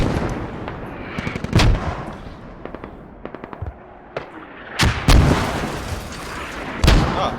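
Mortar fire and other shelling in a Squad-style competitive match between FSG and Baguette Kebab Squad: loud booming impacts come in bursts, with sharp cracks and a few heavy blasts spaced across the scene.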